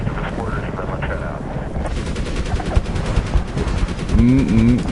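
Gunfire in the Medal of Honor video game, with bursts of rapid shots and sharp cracks mixed with booming impacts, heard under a voice talking and scattered game sounds.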